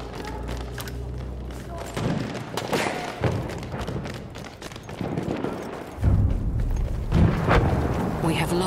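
A grenade goes off during a Battlefield 1 conquest battle, a heavy boom standing out among dull thuds and scattered gunfire, while voices talk over the chaotic combat.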